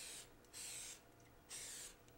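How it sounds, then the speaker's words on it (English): Nonstick cooking spray hisses onto a plastic dehydrator tray in two short bursts, each under half a second, with a quiet pause between them. "for the plastic tray I'm going to spray it with the nonstick cooking spray"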